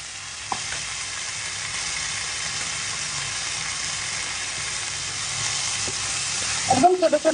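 Onion, tomato and chili fry with garlic paste in a pan, hissing in a steady, even sizzle, until a stirring scrape and a louder burst of frying come near the end.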